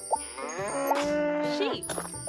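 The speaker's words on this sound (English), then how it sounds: "Cow." A cow moos in a children's animal-sounds game, one drawn-out, wavering moo lasting under a second, set against light chimes and game sound effects.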